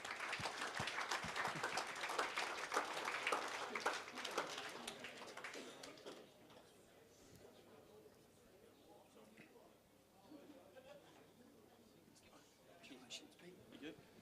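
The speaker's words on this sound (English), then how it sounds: "Round of applause for New Norfolk Footy Club." Applause at the 2017 SFL William Leitch Medal presentation for the New Norfolk Footy Club: a dense crowd clapping loudly for about six seconds, then fading to scattered claps and room murmur.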